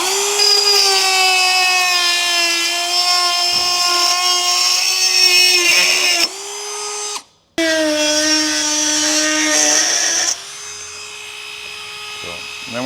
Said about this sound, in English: I'm going to grab my smaller Dremel.